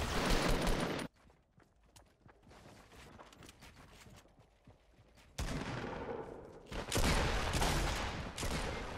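Gunfire bursts in the video game Fortnite, loud rapid shots at the start and again in the last few seconds, with a quieter stretch of scattered faint game noise between them and no talking.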